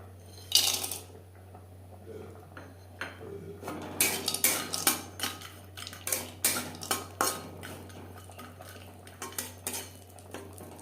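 A metal spatula clatters and scrapes around a pan of cashews and raisins frying in oil and ghee, in quick, irregular strokes, with a low steady hum underneath and no voices.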